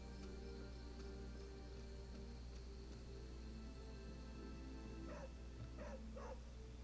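A dog barks three quick times partway through, in the video game Marvel: Midnight Suns, fairly faint over a steady ambient game soundscape with no talk.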